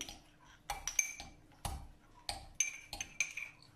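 Spoon clinking against a small dish while mixing coconut oil with baking powder, sharp metallic taps and scrapes in irregular bursts, close and fairly quiet.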